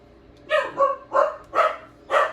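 A dog barks five times in a loose rhythm, fairly close and clear, with quiet pauses between the barks and no one speaking.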